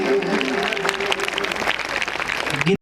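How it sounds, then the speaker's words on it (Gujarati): Enthusiastic applause from an audience at a folk-culture stage program, dense continuous clapping with a sustained tone and faint voices beneath, ending abruptly. "જોરદાર તાળીઓનો ગડગડાટ"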